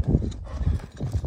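Hooves of a racing horse, ridden on the reins without a whip, clip-clop in a quick repeating rhythm, close and fairly loud, with no voices over them.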